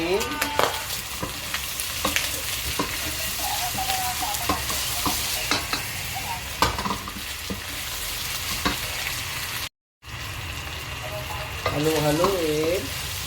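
Pork steak with oyster sauce sizzles steadily in a pan while being stirred, with scraping clicks throughout, a brief dropout near the end, and a faint voice-like warble toward the close.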